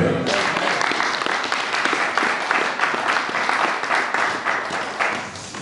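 A church congregation bursts into sustained, loud applause, dense clapping that fills the room throughout, with voices faintly mixed in.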